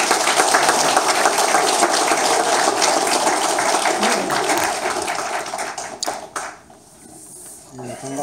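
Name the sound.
audience applause welcoming the speaker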